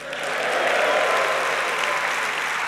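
An audience at the Skoll World Forum opening plenary bursts into loud, sustained applause mixed with cheering, a dense crowd roar that holds steady throughout.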